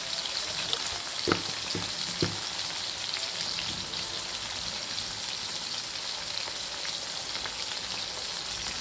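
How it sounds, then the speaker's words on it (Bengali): Salted potatoes frying in oil, a dense, even sizzle heard up close, with a few sharp pops and clicks early on, and no voices. "আলুগুলোকে প্রথমে খুব ভালো করে ভেজে নিতে হবে।"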